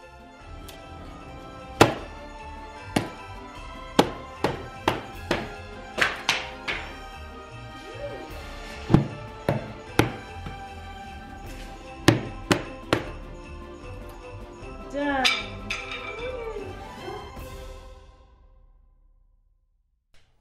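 Hammer blows knock apart an old 1970s–80s style furniture base from a Lane chest: a run of sharp, irregular thunks and whacks, close and loud, with scraping and rattling of loose parts near the end before it falls quiet.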